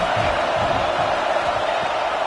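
Home crowd roaring at an ASU vs FSU football game, a dense, continuous wash of cheering and yelling from a large stadium audience, steady and fairly loud throughout.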